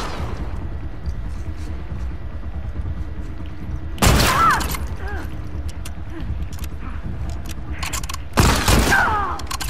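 Two loud gunshot bursts in The Last of Us Part 2 ring out several seconds apart during a fight against infected, each followed by a short echoing tail over quieter game ambience, with someone talking at times.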